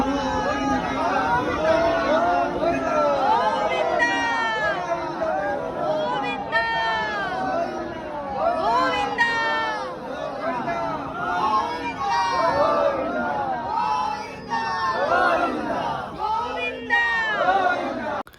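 A dense crowd waits in a queue at Tirupati temple, with many overlapping voices chattering and calling out in a constant, busy hubbub that carries on without pause.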